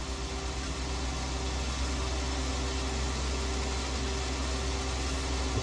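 A tractor engine in Farming Simulator 19 drones steadily, a constant mechanical hum and noise that stays even and fairly loud throughout, with no talk over it.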